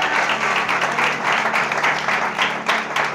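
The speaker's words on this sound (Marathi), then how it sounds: "अरे टाळ्या वाजवा ना." A church congregation claps together during a sermon, a steady dense patter of many hands that holds at an even, fairly loud level throughout with slight pulsing.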